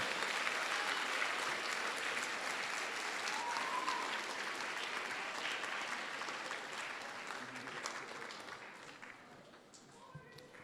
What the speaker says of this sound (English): So a round of applause to the teachers and the students here at Wilson Southern